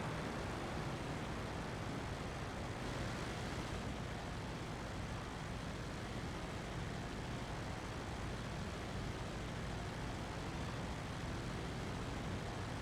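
A World War I SE5a biplane engine running at full throttle in the flight game Rise of Flight: a steady, loud, continuous drone with a rough low rumble, holding an unchanging level throughout.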